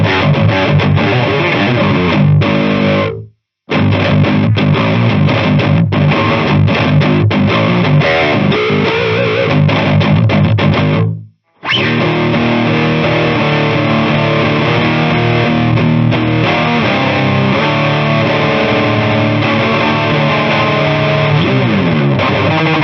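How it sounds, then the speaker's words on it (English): Electric guitar driven through a Dark Matter distortion pedal, thick saturated riffing played loud and continuous with two brief full stops before the chugging resumes. "that is a quick and straightforward example of the Dark Matter distortion"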